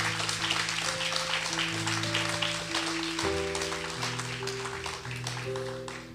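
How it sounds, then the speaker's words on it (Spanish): A church congregation claps together in a steady wash of applause while sustained keyboard chords ring and shift underneath, moderately distant. "Denle un fuerte aplauso al Señor."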